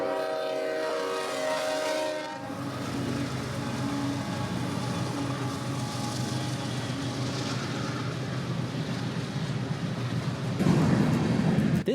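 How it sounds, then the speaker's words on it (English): A train passes the Tehachapi train depot in the desert, a sustained rolling rumble and rattle of rail cars that swells and holds steady over several seconds. "there would be a train passing right as we got here."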